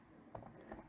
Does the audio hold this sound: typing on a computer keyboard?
yes